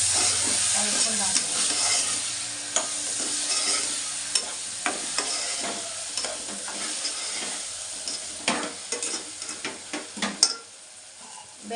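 Coriander and pepper powder stirred into a frying pan for a Telugu ridge gourd and prawn curry, giving a steady sizzle of frying with scattered scrapes and clinks of a utensil against the pan.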